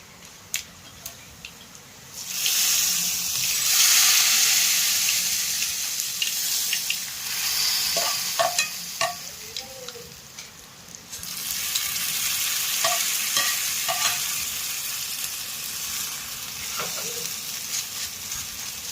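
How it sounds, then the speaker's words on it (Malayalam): Grated coconut fries in a pan for topping a yam curry, giving a loud, hissing sizzle that swells and fades in waves. Clinks of stirring break through the hiss, and no one speaks. "ഇത് നമുക്ക് വറുത്ത് കോരി ഇതിൻ്റെ കറിയുടെ മണ്ടയ്ക്കിടാനുള്ളത്."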